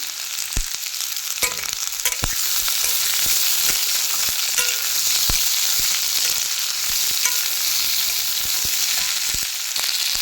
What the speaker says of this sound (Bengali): এবারে পেঁয়াজ আর টমেটো একসাথে দিয়ে দিচ্ছি আলুর উপর দিয়ে একটু ভালো করে কষিয়ে নেব